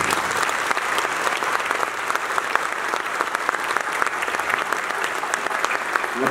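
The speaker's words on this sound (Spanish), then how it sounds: "Un aplauso para todos." Audience at an orchestral concert in San Salvador gives sustained applause, a dense, even patter of many hands clapping with no break from start to finish.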